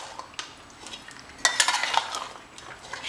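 A spoon stirs and mixes Jaora-style mutton korma in a pot, scraping and clinking repeatedly up close, with a denser burst of stirring midway over a faint sizzle and no voices.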